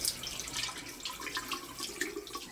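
A hotel bathroom faucet in Chiba Prefecture runs steadily, a soft continuous splash of tap water filling the sink, close and fairly quiet with no voices.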